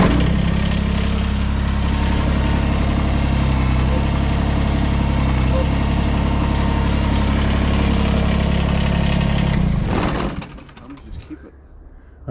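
A Kubota BX compact tractor engine runs with a steady, deep idling rumble, close and loud, for most of the stretch before cutting out abruptly near the end, with a person talking over it.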